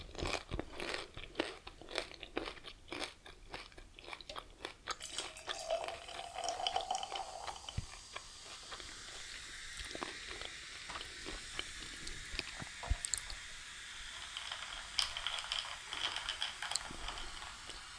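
Crunchy Cheesecake Factory nachos chewed close to the microphone, with continuous loud crunching and wet mouth sounds in irregular bites, and no talking.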